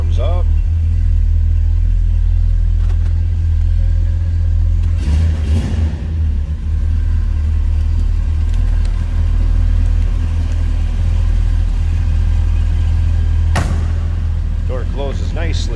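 A 1965 Chevrolet El Camino, with its temperature warning light on at startup, idles with a deep, steady, close rumble. Two brief, sharp noises cut through the low engine drone, and a voice talks over it in places.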